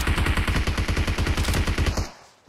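Rapid automatic gunfire from an enemy team in PUBG Mobile, a fast even burst of about twenty loud close shots that cuts off abruptly, leaving a short fading tail.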